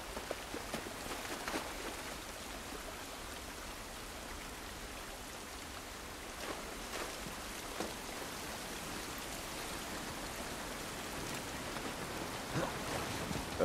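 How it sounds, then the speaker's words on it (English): Steady rain pours and patters throughout a scene in the video game The Last of Us Part I, a continuous wash of drops on surfaces that stays moderately quiet with no talk over it. "This rain ain't gonna do us any good."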